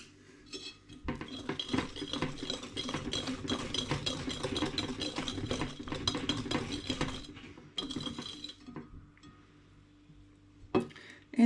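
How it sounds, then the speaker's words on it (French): A whisk or spoon stirs pastry cream mixture in a bowl, making a busy run of clinks and scrapes against the side that slows and turns sparse toward the end. "On mélange à nouveau."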